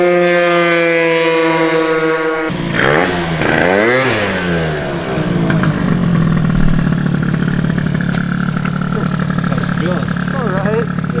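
Honda Elite scooter with a stroker engine and Dio headset, revving loud and close as it rides past on a wheelie, the engine note rising and falling under people talking.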